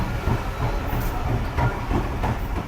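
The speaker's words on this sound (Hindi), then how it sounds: "ये हम आखिरी कोच में रेलवे ट्रैक पे आगे गुज़र रहे हैं।" A train runs along a railway track, heard from inside the last coach. Rumbling low wheel noise is broken by a regular clickety-clack of rail joints, close and steady, with no talking.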